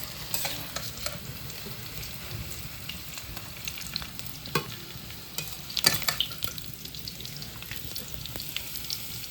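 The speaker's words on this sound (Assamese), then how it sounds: "আপোনালোকে দেখাই পালাক পিঁয়াজটো হাফ ফ্ৰাই হৈ গ'ল।" Chopped onions frying in oil in a pan, a continuous crackling sizzle with occasional sharper pops and the scrape of stirring, close and steady throughout.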